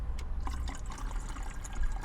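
Water runs from a tap or dispenser into a plastic bottle that still has its label on, a steady splashing, gurgling fill heard up close inside a car, with no talk.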